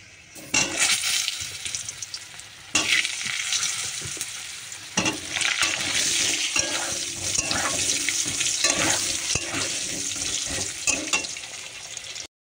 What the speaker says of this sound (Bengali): লবঙ্গ দিয়ে দিলাম তেলের মধ্যে, গরম মশলা। এবার দিয়ে দেবো তোমার আলুটা দিয়ে দেবো।